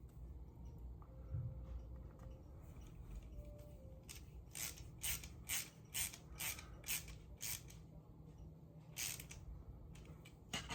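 A screwdriver ratchets rapidly, driving small screws into a Fanhome 1966 Batmobile die-cast model kit, with faint handling creaks first, then bursts of quick close clicking alone.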